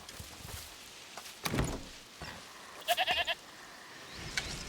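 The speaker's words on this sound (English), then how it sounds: "Is that the goat he talked about?" A goat in the video game A Plague Tale: Requiem bleats in a short, wavering burst of several pulses, set amid faint ambient game noise and a few soft knocks.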